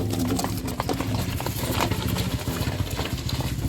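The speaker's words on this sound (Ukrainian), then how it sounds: "Зараз покажемо вам роботу коня." A working horse clops steadily along while hauling a load of logs outdoors, its hoof beats close and rhythmic over a low, continuous rumble.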